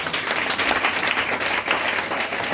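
A church congregation applauds during a worship service, dense steady clapping filling the space from start to finish with no talk over it.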